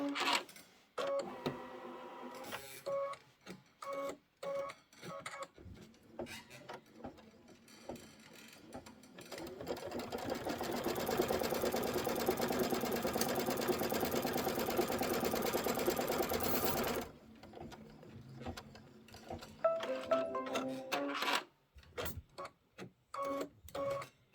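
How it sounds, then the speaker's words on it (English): A Kimberbell embroidery machine quilting outer border strips in the hoop: a fast, steady mechanical needle chatter that runs continuously for several seconds, framed by stop-start stitching bursts and clicks before and after, close and alone. "I'm just going to hit start and let it do the quilting"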